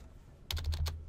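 Several quick keystrokes on a computer keyboard, tapped in one short burst while filling in a username and email address, close and clear over a faint low hum, with no talking.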